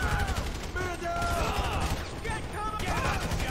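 Rapid gunfire in the video game Grand Theft Auto 5 during a shootout escape, dense overlapping shots crackling continuously under game audio, with voices faintly mixed in.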